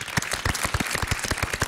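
A studio audience applauds a band at the close of a Greek late-night talk show, dense steady clapping filling the short moment with no voices on top.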